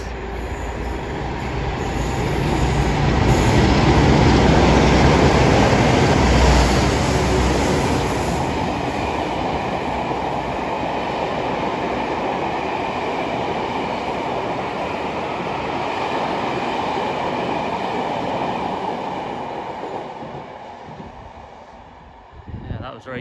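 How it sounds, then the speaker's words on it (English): A train headed by two Class 47 diesel locomotives passes at Exeter St Davids, a loud, sustained rumble of engines and rolling wheels that swells early, holds steady, then fades away. "Another two Class 47s at the front."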